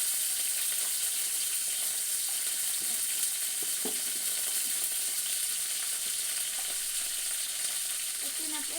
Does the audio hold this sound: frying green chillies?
yes